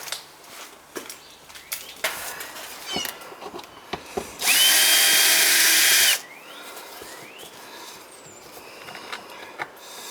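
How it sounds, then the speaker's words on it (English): A power screwdriver drives a couple of screws to fix a pipe hanger low in a garage where the water supply froze, one steady whirring burst of about two seconds amid faint clatter and handling noises. "Get my screwdriver. Put a couple of screws in there."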